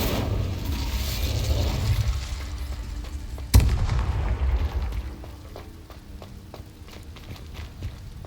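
Spell-casting effects from the Hogwarts Legacy video game: dense rumbling game audio with one sharp, loud blast partway through, then quieter crackles and scattered clicks.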